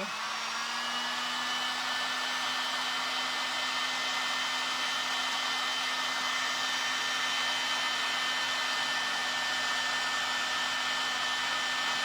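A heat tool blows steadily to dry Titebond glue attaching a piece to a vase, a loud continuous whirring hum with a steady tone, close and unbroken throughout with no talking.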